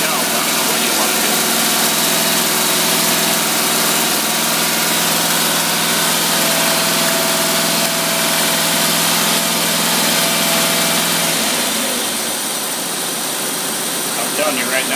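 An engine fitted with a Holley carburetor idles steadily and loudly nearby, and its low hum eases off near the end.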